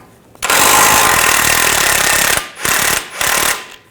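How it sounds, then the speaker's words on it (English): Impact wrench rattling hard at close range, loosening a 21mm ball joint nut on the front suspension of a 2009-2010 BMW 535i xDrive; one long loud burst, then two shorter bursts with brief pauses. "I'll take this nut off. Use a 21mm socket."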